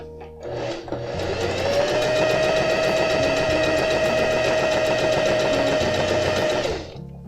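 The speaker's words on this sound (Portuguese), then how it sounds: "Ponto reto normal, só começar a costurar." A domestic sewing machine sews a normal straight stitch, starting up and then running loud and continuous at a steady hum with a dense rattling mechanism for several seconds before stopping.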